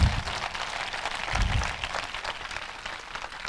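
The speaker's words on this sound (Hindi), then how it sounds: "ऐसे महान परमेश्वर के लिए ताली बजाएगा।" Church congregation applauding during a sermon, a dense wash of clapping filling the room at moderate level, with a slightly fuller burst near the middle and no voices over it.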